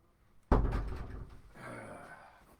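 A front door bangs open with a single sharp thud, followed by a fainter rattle and shuffle as it swings, heard close and alone.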